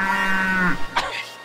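A cow gives one long, drawn-out moo that fades after about three-quarters of a second. A brief, breathy vocal sound follows close by.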